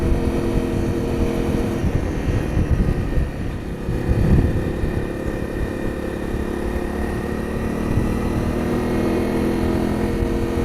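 A Honda CRF 250 L dual-sport motorcycle being ridden, its engine a steady, continuous drone mixed with wind rush, heard close and fairly loud throughout.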